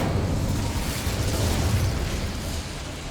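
Incendio fire spell cast in the game Hogwarts Legacy: a steady, loud roaring whoosh of flame that holds for about three seconds.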